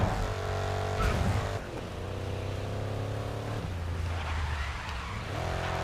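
Car engine droning in GRID Legends racing game, with a drawn-out tyre squeal and scrub as the car brakes late and misses a turn, engine pitch dropping then climbing again, loud and steady throughout.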